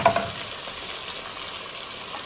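Young jackfruit curry with salt, turmeric and sour yogurt sizzles and fries in a pan, a loud, steady hiss close by with a couple of sharp crackles at the start, no voices.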